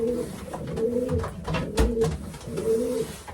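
A racing pigeon, a breeding cock, coos in a loft in a close, steady series of soft low throaty calls that repeat three or four times without voices.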